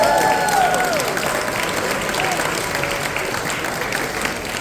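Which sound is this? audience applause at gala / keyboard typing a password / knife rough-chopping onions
audience applause at gala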